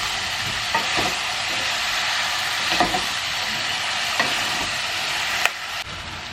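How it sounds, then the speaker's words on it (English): Chopped vegetables fry in a pan under a constant broadband sizzle, with a few sharp clicks and scrapes of a spoon as they are stirred, close and alone without talk. "Give it a good stir."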